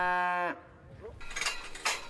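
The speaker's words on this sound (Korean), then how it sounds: "600헥타르의 농지에서 400마리의 젖소를 키워 유제품을 생산해낸다" A dairy cow on a large French dairy farm near Paris lets out a loud, close moo that cuts off abruptly, followed by faint rustling and shuffling noises.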